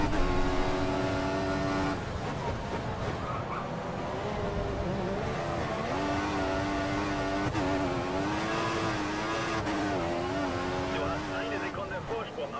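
Formula 1 race car in the video game F1 2014 at the Sepang International Circuit in Malaysia, a loud, sustained high-revving engine whine with shifting pitch as cars run close, with talk over it.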